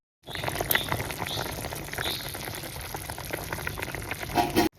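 Mutton curry simmers and bubbles steadily in a pot as cashew kernels are added, giving a continuous close hiss and gurgle with a few soft plops.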